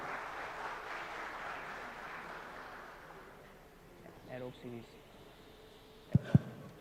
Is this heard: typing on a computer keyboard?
no